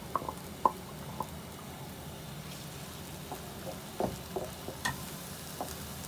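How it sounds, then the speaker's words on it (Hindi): Onions with a little red chilli fry in oil in a pan for a keema sandwich, with a soft steady sizzle and occasional light scraping clicks from stirring, close but fairly quiet, no talk. "एक से 2 मिनट हल्का सा इसको फ्राई करते हैं"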